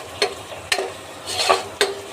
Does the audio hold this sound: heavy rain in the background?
no